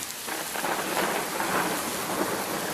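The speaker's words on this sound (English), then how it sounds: "until the thunder roared with all the ferocity of a lion" Heavy thunderstorm with steady rain pouring down and deep rolling thunder rumbling throughout, loud and continuous with no voices.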